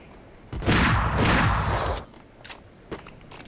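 Shotgun blast in the Max Payne video game: one loud, close burst of gunfire lasting about a second and a half, followed by fainter clicks and small impacts.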